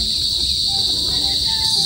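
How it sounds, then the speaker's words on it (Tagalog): Crickets chirp in a steady, high-pitched drone by a river in the afternoon, constant and moderately loud with faint low rumbling beneath. "Meron na din po pating kuliglig."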